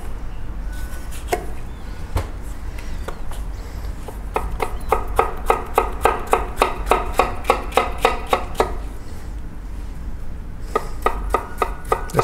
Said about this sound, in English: Okay, next step, let's cut the vegetables.